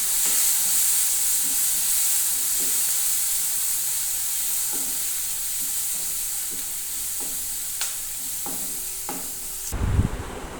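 Chopped onion fries in hot oil with mustard seeds, cumin, asafoetida and curry leaves, a steady bright sizzle with occasional spoon clinks and a louder burst of sizzling near the end.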